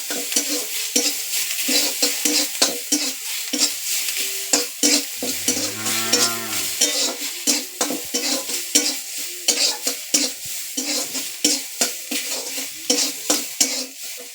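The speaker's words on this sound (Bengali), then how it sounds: "একটুখানি রসুন একটুখানি জিরে আর গোলমরিচ বাটা নেড়ে নিচ্ছি ভালো করে" Garlic, cumin and pepper paste stirred in a frying pan: rhythmic scraping of a spatula against the pan over a steady sizzle, with a brief metallic clang midway, close and clear.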